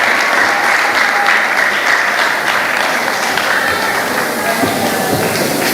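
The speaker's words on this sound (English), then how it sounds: "Let's give them a round of applause." An audience applauds finalists at a primary school quiz competition, a dense, even round of clapping that holds steady from start to finish at close range.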